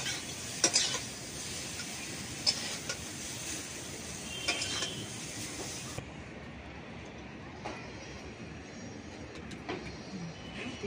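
Purple cauliflower fries in hot oil in a wok over a high flame, giving a steady close sizzling hiss that drops noticeably quieter partway through.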